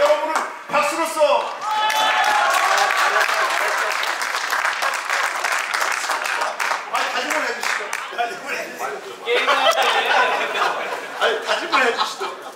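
A crowd at a ROTC football tournament event claps steadily for several seconds, with scattered chuckles and murmuring mixed in, the clapping swelling again near the end.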